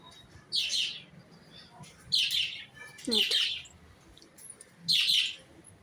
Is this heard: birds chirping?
yes